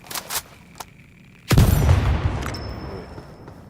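A frag grenade detonating in the ALARA Prime shooter game, with a few sharp gunshot cracks, then a sudden loud close boom that rumbles and decays into a lingering hiss with a faint tone.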